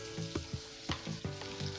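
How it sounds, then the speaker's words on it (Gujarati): Ridge gourd and colocasia leaves sauté in hot oil with a close, steady sizzle, punctuated by quick rhythmic scrapes of a spoon stirring the pan several times a second. "પહેલાં તેલમાં આવી રીતે ફેરવી લેવાના."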